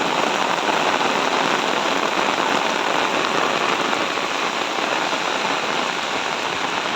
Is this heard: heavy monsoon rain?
yes